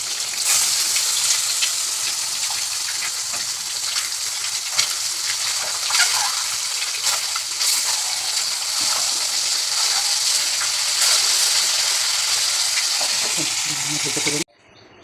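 Eggs frying in hot oil in a pan for a Bengali potato and egg curry, a steady loud sizzle and crackle running nearly unbroken up close before cutting off abruptly near the end.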